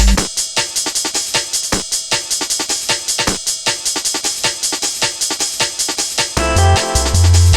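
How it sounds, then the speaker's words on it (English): Energetic Bomberman Hero soundtrack with driving, evenly spaced percussive hits under dense synth layers, ending in a louder sustained chord passage. "Bomberman Hero sounds like this!"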